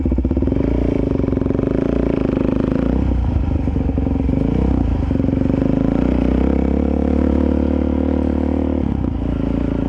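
A motorcycle ridden on a cold, muddy trail, its engine running loud and close throughout with a steady low drone that shifts pitch as the throttle changes, plus some clattering.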